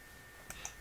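Two quick, faint mouse clicks selecting a New Project menu item in software on a computer, sharp and close, about a beat apart over a quiet room hum.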